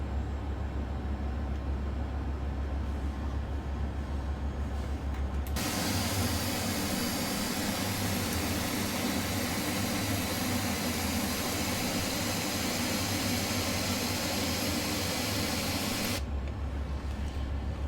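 Steady jet roar of Airbus A400M engines in a flight simulator game, a constant broadband rush that swells suddenly louder for several seconds, then drops back to a lower hum.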